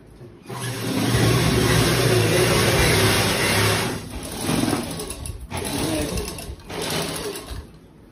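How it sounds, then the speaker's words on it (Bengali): Sewing machines stitching clothes inside a garment factory give a loud, continuous whirring drone that dips briefly two or three times, with faint background voices beneath it. "দেখুন এখানে সেলাই হচ্ছে।"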